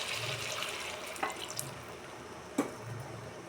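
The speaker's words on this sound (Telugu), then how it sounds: "ఇప్పుడు ఒక గ్లాసు నీళ్ళు వేస్తున్నా" A glass of water pours into a pot of chicken curry, giving a short continuous splash and gurgle at close range, with a couple of small clinks from a utensil.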